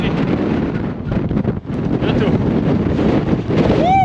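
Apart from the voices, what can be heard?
strong wind on mountain top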